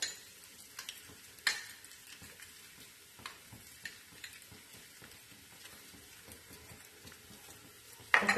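Roasted chammanthi being stirred in a pan with coconut oil, a soft steady sizzle under scattered clinks and scrapes of a spoon, with a few sharper knocks and a louder clatter at the very end.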